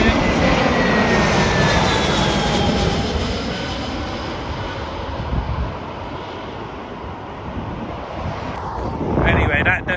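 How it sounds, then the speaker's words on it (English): A fixed-wing airliner arriving at Heathrow Airport roars steadily at close range, a broad loud engine rumble mixed with wind buffeting on the microphone, swelling again toward the end. "Oh, we got another plane coming in."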